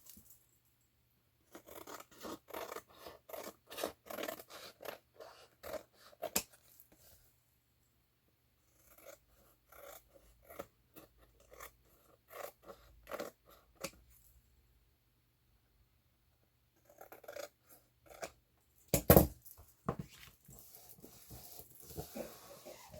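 Scissors snip paper for a Midori-style traveler's notebook journal, quiet crisp cuts coming in irregular bursts of rapid clips with pauses between, plus a brief louder rustle of handled paper near the end.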